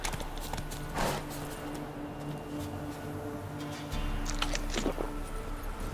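Horse hooves clip-clop at a gallop in The Witcher 3 video game, a steady quick rhythm of hoofbeats with soft background ambience and no talking.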